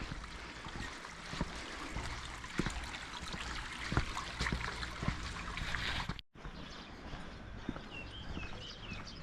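Water rushes steadily through small hand-made irrigation channels along the Tamang Heritage Trail in rocky Nepal. The trickle is close and continuous, with a brief break partway through before the flow resumes.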